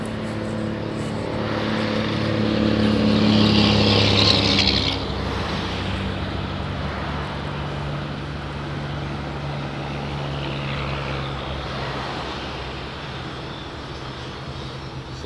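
A steady low engine drone with broad wind rush, heard while riding on a ferry in Jamaica under overcast skies; the hum swells briefly early on, then continues evenly and moderately loud with no voices.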